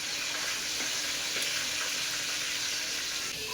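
Katla fish pieces frying in hot oil, a loud, steady close sizzle lasting throughout, with faint scraping ticks as the pieces are turned in the pan.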